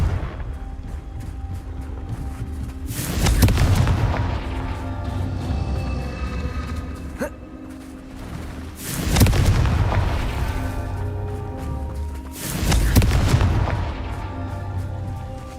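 Confringo fire spells burst in Hogwarts Legacy, three loud booming explosions at regular intervals, each a sharp broadband blast that rumbles and decays over game music and ambience.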